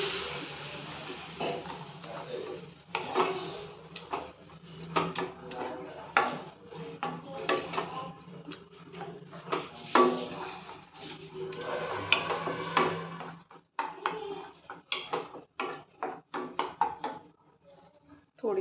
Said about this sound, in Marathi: आता छान व्यवस्थित ह्याला एकदा मिक्स करून घेऊयात.